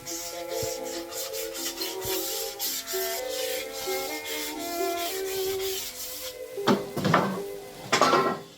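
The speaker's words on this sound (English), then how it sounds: "First step is apparently sanding" Steady rhythmic rubbing and scraping, like sandpaper worked back and forth over wood, with a few sharper knocks near the end, sanding Ikea furniture.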